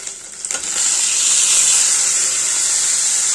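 Chopped tomatoes hit hot oil in a frying pan for a prawn and drumstick curry, setting off a sudden loud sizzle that settles into a steady, intense hiss.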